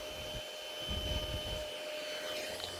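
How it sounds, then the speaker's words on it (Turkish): A small electric fan (vantilatör) runs steadily indoors, giving a constant whooshing drone with a faint tonal hum, moderately loud and unbroken throughout. "Burada bir vantilatör var"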